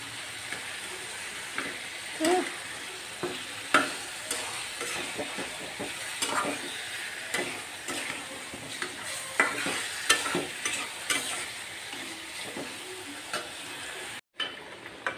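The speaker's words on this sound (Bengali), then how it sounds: "এই যে মশলাটা কষিয়ে কচু শাকটা দিয়ে দিছি এখন এটাকে আমি রান্না করে নিব নেড়ে চেড়ে" Taro leaves stirred into fried spices in a pan, with pangas fish head being cooked alongside; steady sizzling under repeated scraping strokes of a spoon, close and continuous, with no talk.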